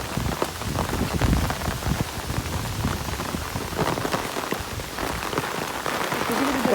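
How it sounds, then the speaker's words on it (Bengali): Steady rain pours down in the Sundarbans mangrove forest, a dense, continuous patter of drops on leaves and surfaces that fills the scene at close range with no voices. "বৃষ্টিতে ভিজে ভিজে ভিডিও করা একটু অসম্ভব ব্যাপার"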